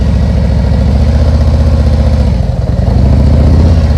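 Motorcycle engine idling low and steady during slow-speed clutch riding practice, a continuous close rumble with a brief dip partway through.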